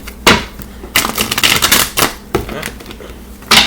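Tarot cards flipped and shuffled up close, a quick series of sharp slaps and papery riffles in uneven bursts, fairly loud, with no talking.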